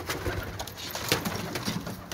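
Pigeons coo close by in a short series of soft, repeated throaty calls.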